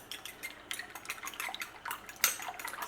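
Turkey meatloaf ingredients and a cracked egg being mixed in a bowl, soft wet squelching with light clinks of utensil against the bowl, close and quiet, one sharper knock near the end.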